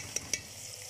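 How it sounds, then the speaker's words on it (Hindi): Ginger garlic paste frying with tomatoes in a pan, a soft steady sizzle with two quick sharp stirring scrapes of a spoon, close and alone. "ये एक चम्मच लहसुन और एक चम्मच अदरक, इसको हम अच्छी तरह भूनेंगे।"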